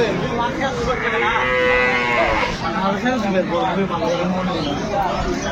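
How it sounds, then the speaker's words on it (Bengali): At a busy cattle market, a cow with her calf lets out several drawn-out moos close by, overlapping with people talking and a crowd chattering in the background. "গাভী বাছুর।"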